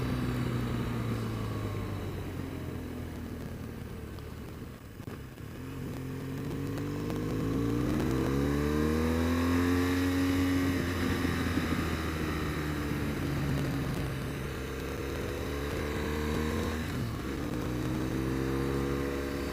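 A 2013 BMW GS1200 motorcycle engine drones steadily while riding along a winding country highway, its pitch rising and falling with throttle changes under a constant layer of wind rush.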